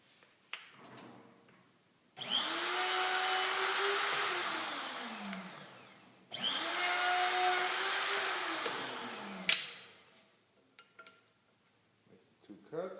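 A Hoffmann X15 dovetail routing machine makes two separate cuts through 3/4-inch sample pieces. Each cut is a loud whirring roar that rises and falls over several seconds, with quiet handling clicks before and after.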